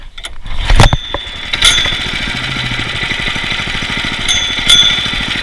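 Honda GX200 engine in a Baja buggy running roughly on bad fuel, a small single-cylinder chug that stumbles and pops unevenly, with sharp clanks and bangs breaking through.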